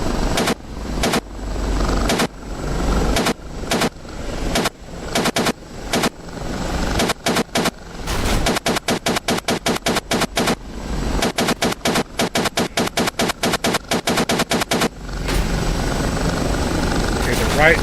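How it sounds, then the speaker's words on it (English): Machine gun fire from an OH-58D Kiowa helicopter in the DCS World flight simulator, loud rapid bursts of varying length repeating over a constant rotor and engine drone, with a long sustained burst near the end. "Lay some suppressive fire down."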